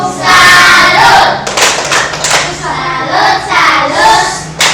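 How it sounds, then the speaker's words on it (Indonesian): A class group in a classroom performs a rhythmic clapping salute, loud close hand claps in patterned bursts mixed with the group's chanting voices, pausing briefly midway before the clapping resumes. "Tepuk salut untuk kelompok 3."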